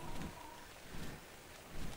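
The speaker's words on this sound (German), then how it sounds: "Und es regnet." Rain falling in the video game ARK Valhalla: a steady, soft broadband hiss with a few low rumbling swells, fairly quiet and continuous.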